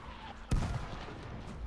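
Gunfire in the zombie shooter World War Z, set in Moscow: a single sharp, heavy shot or blast rings out mid-clip over a low background rumble, then fades into a faint reverberating tail.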